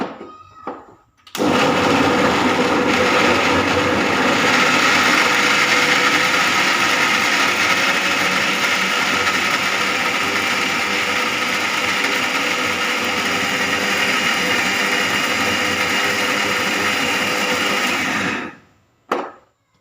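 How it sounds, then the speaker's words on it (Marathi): An electric mixer grinder chops lemon slices for a sweet-sour lemon murabba, a loud steady whirring drone that starts abruptly, runs unbroken for about seventeen seconds, then cuts off. "आता मी ह्या ह्या लिंबूच्या कापला मिक्सरच्या पॉटमध्ये घेऊन हे बारीक करून घेते"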